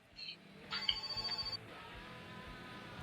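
Phone ringing in the My Summer Car video game, a short electronic trill with a steady buzzing ring behind it for about a second, under low background noise and no talk.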